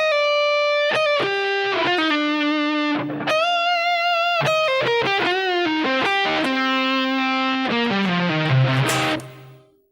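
An electric guitar plays a sustained, singing melodic phrase with a distorted, effects-laden tone. Notes slide and pull off, ending in a descending run, loud and close with no talking.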